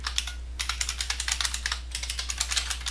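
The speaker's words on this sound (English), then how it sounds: "now I'm going to press the Enter key." Computer keyboard keys being pressed while editing code in Visual Studio 2010, a rapid run of light clicks close to the mic, steady and quiet over a low hum, with a brief pause early on.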